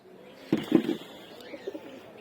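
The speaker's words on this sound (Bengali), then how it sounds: "এই যে কবুতরগুলো বেরো, ছোট ছোট 4টা বের হলো।" Several pigeons give soft, low cooing calls close by, a short burst of throaty coos followed by a few quieter ones, with no voices over them.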